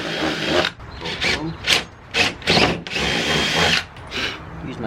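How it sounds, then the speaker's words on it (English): A power drill whirs in short repeated bursts, drilling a hole in the edge of a wooden cornhole board, with rising and falling motor pitch, close by. "Drill a hole on the edge."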